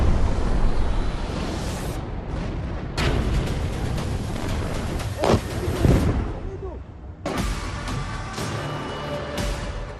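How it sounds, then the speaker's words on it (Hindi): Deep artillery blasts boom near Gaza, around a kibbutz under fire, with several separate thuds spaced a few seconds apart, some sharp and close. A reporter keeps talking between and over the explosions. "बीच बीच में जो धमाका सुनते हैं वो आर्टिलरी की आवाजें हैं।"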